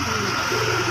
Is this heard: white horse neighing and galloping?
no